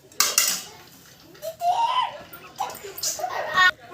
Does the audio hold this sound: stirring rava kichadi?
yes